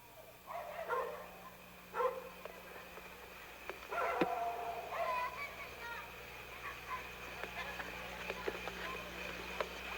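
Dogs bark a few times, somewhat distant and intermittent, under people talking.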